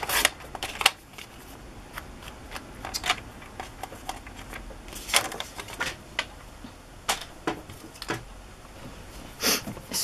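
Scissors trimming a small bit of tapestry fabric for a journal cover, sharp irregular snips and shuffling handling noises, close up with no speech.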